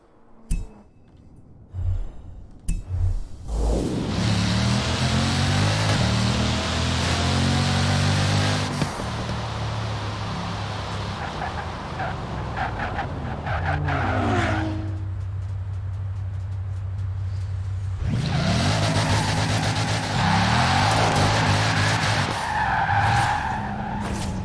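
A Lamborghini Aventador SV in Forza Horizon 4 roars and revs, its tires screeching through long skids, loud and sustained with a few short clicks at the start.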